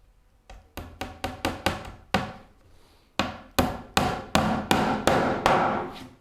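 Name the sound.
cross peen hammer striking cut nails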